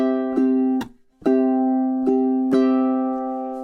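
Ukulele strum pattern from a pre-chorus tutorial, measures 16 into 17, played solo: sharp rhythmic strums at a steady pulse over ringing chords, with one brief drop to near-silence before the strumming resumes.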